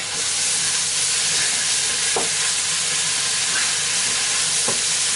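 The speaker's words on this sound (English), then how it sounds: "Now it's time to add some more yoghurt." Yoghurt sizzling in a hot pan for chicken curry, a loud steady hiss of frying, with a couple of brief stirring knocks.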